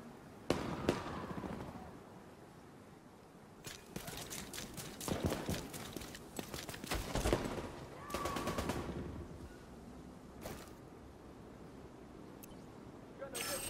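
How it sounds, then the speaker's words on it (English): Gunfire in the video game The Division 2, with bursts of distant and nearer shots that crackle irregularly over game ambience, and a person talking at times. "Who are they shooting at?"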